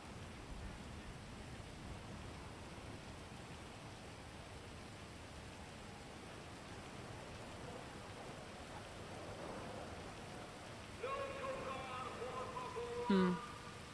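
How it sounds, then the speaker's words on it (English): Rain falls steadily and leaks through a ceiling indoors as a broadband hiss under faint background, with a few brief clattering sounds near the end. "Oh, here comes the rain. It's raining through the ceiling."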